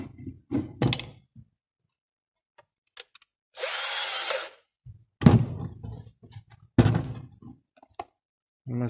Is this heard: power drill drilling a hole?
yes